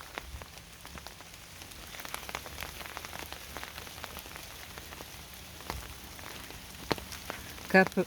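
Steady heavy evening rain patters on surfaces, a dense spray of drops with scattered louder splashes, no voices.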